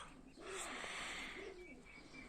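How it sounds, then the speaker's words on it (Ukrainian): Domestic pigeons coo softly in a loft, with two low, rolling coos in succession against faint background noise and no talking. "Це у мене двійка, двійка голубів осталася із першої партії."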